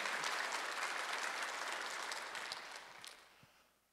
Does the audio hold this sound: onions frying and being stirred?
no